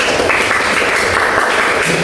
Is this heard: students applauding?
yes